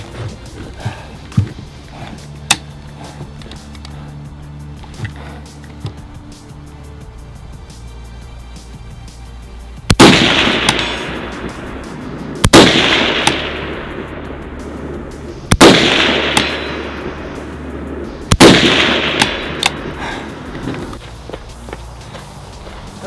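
Four loud PSA AK-104 rifle shots in a long-distance stress shoot, each sharp crack followed by a rolling echo, spaced a few seconds apart after a quieter stretch of ambient noise and small handling sounds.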